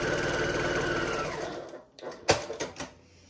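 A sewing machine stitches a quilt seam in a steady close whir for about a second and a half, then stops, followed by a few soft clicks and handling taps.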